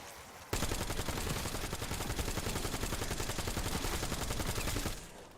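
Sustained rapid automatic gunfire against zombies in Black Ops 7, an unbroken rattling burst lasting over four seconds at steady volume, close and dense, then cutting off abruptly.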